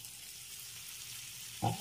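Paneer tikka frying on a tawa gives a soft, steady sizzle, ending in a brief louder clink or stir.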